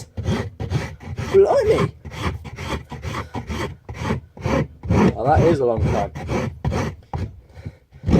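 Repeated rasp strokes on a hidden-tang knife handle, a rough rhythmic scraping close up, stroke after stroke with brief pauses, while someone talks over it.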